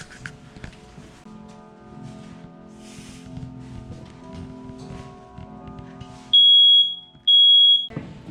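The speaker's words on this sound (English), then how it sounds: "Checking your fire alarm." During a fire alarm test, a smoke alarm gives two loud, piercing high beeps, each about a second long, after a quiet stretch of faint room noise and rustling.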